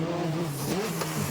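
Peugeot 208 rally car engine held at high revs on a special stage of an ERC rally in Valais, a steady, loud droning note with slight pitch sweeps, continuous and close.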